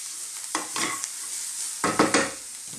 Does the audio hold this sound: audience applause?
no